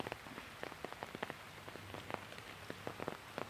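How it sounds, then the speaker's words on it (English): Light drizzling rain in the background, soft scattered patter of drops on a surface, faint and irregular, no talking. "if you cannot, then it's raining a little bit, drizzling"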